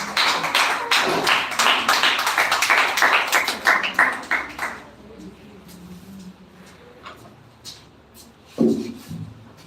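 A school audience claps dense and fast in welcome of a speaker at an English speech competition semi-final, the round of applause fading after about five seconds into scattered taps and room noise, with a louder thump near the end.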